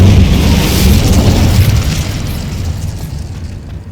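A fiery Incendio spell from Hogwarts Legacy erupts in a loud, rumbling whoosh that swells at once and slowly fades over a few seconds.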